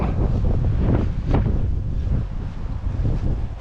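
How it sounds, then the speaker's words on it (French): Loud, gusty wind buffets the microphone at Lac du Carla Bayle with a constant roaring rush that swells and eases slightly. "Et on reprend le vent."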